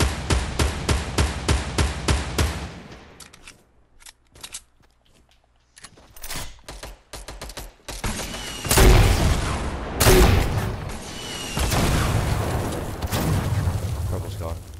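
Purple SCAR rifle fire in Fortnite: a rapid burst of sharp, evenly spaced shots opens, followed by scattered louder bangs and booms of gunfire and explosions further on, with voices talking over the later action.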